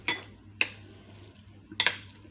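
Spoon clinking against a bowl while a seasoned mushroom filling is stirred, three sharp metallic taps spaced apart over quiet scraping, close and fairly loud.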